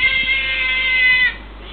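A cat that was thrown out of an apartment building entrance lets out a drawn-out, high-pitched meow that fades abruptly at the end, heard alone against a faint low hum.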